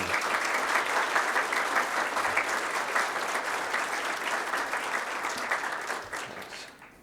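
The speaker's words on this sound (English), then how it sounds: "So let's have a round of applause for all the volunteers and sponsors of Access 2019." An audience at the Access 2019 conference applauds volunteers and sponsors, a dense steady clapping from a crowd that holds for several seconds and then fades out.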